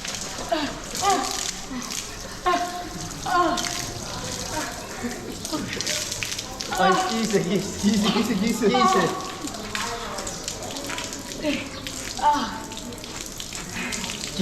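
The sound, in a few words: water poured while bathing an animal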